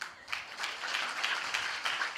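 A congregation at a Tamil Christian church service claps its hands, giving a fairly quiet run of distinct, rhythmic claps that rise and fall together over a couple of seconds.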